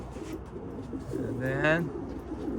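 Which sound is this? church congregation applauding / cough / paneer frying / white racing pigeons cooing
white racing pigeons cooing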